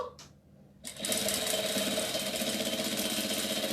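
A sewing machine runs a short backstitch while a rag doll named Dora is being sewn. A faint sound at the start gives way to a steady, loud, close mechanical whir that holds to the end.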